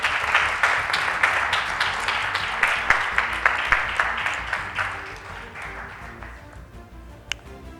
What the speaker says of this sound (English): Let's give our speech makers a round of applause again.